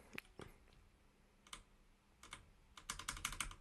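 Irregular keystrokes on a computer keyboard, a few separate taps early on, then a rapid flurry of quick clicks toward the end, close and fairly quiet with no voices.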